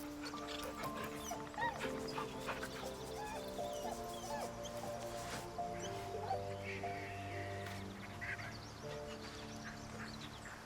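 A dog in the video game Baldur's Gate 3 barks and yelps in short repeated bursts over a steady ambient music bed, moderately close, with no speech.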